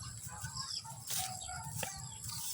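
A pet duck in its cage gives a series of low, rapid, nasal quacks and calls at close range, with rustling movement around it.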